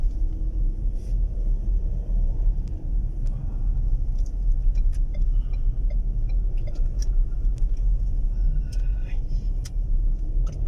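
Car driving along an open, widened road, a steady low rumble of engine and tyres heard from inside with faint clicks and ticks over it.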